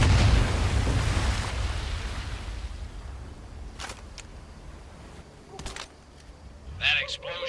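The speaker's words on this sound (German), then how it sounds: "That explosion got the attention of all the German patrols in the area." A distant explosion rumbles in the Medal of Honor VR game, a loud broad boom at the start that slowly fades into a long low tail, with a few faint clicks and a brief voice near the end.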